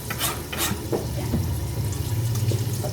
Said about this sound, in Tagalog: Pwede mo na rin hugasan tong ano, repolyo.